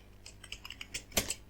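Typing a prompt on a computer keyboard: a quiet series of irregular key clicks over about a second, ending with a sharper, louder keystroke cluster near the close, with no voices.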